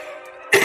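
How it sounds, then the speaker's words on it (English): One sharp throat-clearing cough from a man on a tabletop wargaming podcast bursts in loudly near the end after a quiet stretch. "Sorry, I keep needing a cough"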